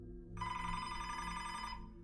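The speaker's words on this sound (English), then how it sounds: "His phone was ringing at his desk" A desk telephone in a small police department rings with a steady, bright electronic trill that starts abruptly and holds for about a second and a half, close and clear.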